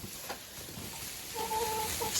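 Hens cluck and fuss close by as they rush at a pile of hay, soft rustling under scattered clucks that grow a little louder toward the end.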